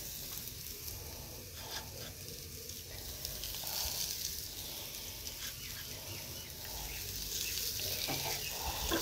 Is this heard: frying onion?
yes